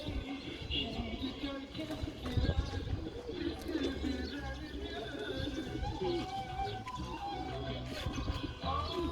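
Pigeons coo softly and repeatedly nearby in a loft, their low rolling calls mixing with faint background voices and rustling.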